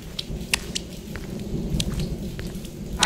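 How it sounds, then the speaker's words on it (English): Heavy rain pours down in a steady, dense roar, with scattered sharper drops and crackles popping through it and no voices. "it just like started pouring rain out of nowhere"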